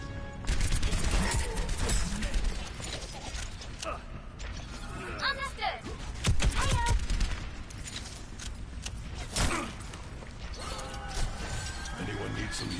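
Gunfire and mechanical weapon clatter from the game Overwatch fill the mix, with loud bursts and crashes over continuous busy game noise and intermittent voices.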